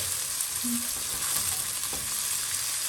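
Sautéed onions with kudampuli (Malabar tamarind) sizzle in a pan for a tuna curry, a constant hiss of frying with light scraping of a spoon as it is stirred.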